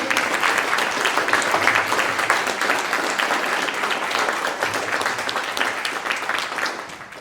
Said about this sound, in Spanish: nuevamente un fuerte aplauso para nuestras invitadas homenajeadas